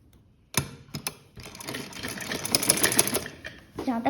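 An electric sewing machine runs in bursts while stitching a frock-style kurti along a marked line, with short starts and then a longer steady whir, close by, and a voice speaking over part of it.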